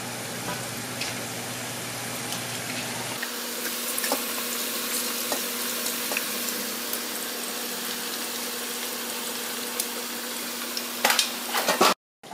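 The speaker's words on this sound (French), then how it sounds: "Là, je vais faire frire la deuxième partie de céleri rave." Celeriac fries deep-fry in hot oil, a loud continuous sizzle and bubbling that steadies after a shift a few seconds in, with faint clinks and a sharp cut-off near the end.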